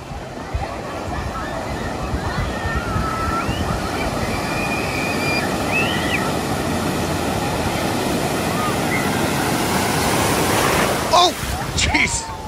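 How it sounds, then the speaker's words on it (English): Wave pool surf at Typhoon Lagoon water park, a steady broad wash of churning water that builds slightly toward the end, with people's voices and chatter mixed in over the roar. "We're in the wave pool."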